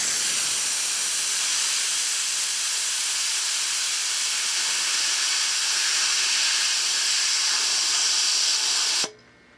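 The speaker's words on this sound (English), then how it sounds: "We'll test the safety valve." The safety valve on a Central Pneumatic 3-gallon oilless pancake air compressor blows off with a loud, sustained, close hiss of escaping air that holds steady for about nine seconds before cutting off sharply as it reseals.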